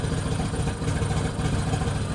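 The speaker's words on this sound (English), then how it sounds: "Beautiful tone to the exhaust though, isn't it?" A motorcycle with a debaffled exhaust idles steadily and close by, giving a continuous low, throbbing engine note with no talk over it.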